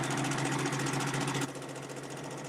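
A domestic sewing machine running steadily during free motion quilting, a fast even mechanical whir and needle chatter that drops slightly in level partway through, close and alone.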